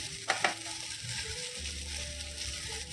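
Sambar balli leaves roasting in a pan for gojju, a low, gentle sizzle with a couple of sharp scrape knocks near the start and soft stirring noises after, quiet and without speech.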